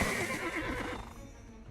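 A horse in the Black Desert Online game neighs in a single clear whinny that falls in pitch, fairly loud and close, with no talking.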